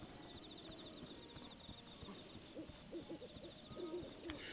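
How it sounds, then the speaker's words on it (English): In Breath of the Wild, an owl hoots softly a few times in a quiet night scene over faint ambient hiss and a steady high insect-like trill, with no talk. "I hear genuine owl noises."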